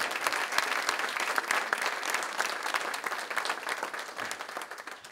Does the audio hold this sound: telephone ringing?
no